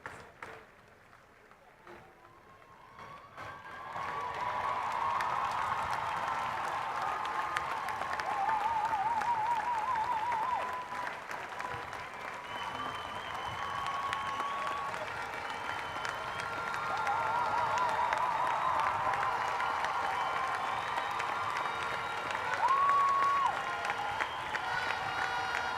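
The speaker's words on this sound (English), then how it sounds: "So the crowd showing their appreciation to the services being rendered by the medical team." Crowd at an athletics stadium applauding and cheering for the medical team in a long, sustained wash of clapping, with an announcer talking over it.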